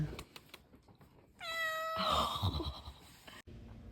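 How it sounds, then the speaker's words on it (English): A cat inside a trail shelter in the Great Smoky Mountains on the Appalachian Trail lets out one long, clear, drawn-out meow nearby, preceded by a few faint clicks and taps. "there was actually a kitty cat in the shelter, which was so cute"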